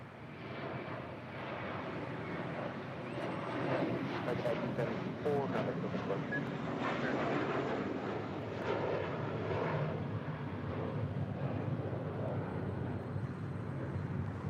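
An airliner taking off from runway 25 right at LAX gives a steady, distant jet roar that swells slightly and holds. A voice talks faintly beneath it.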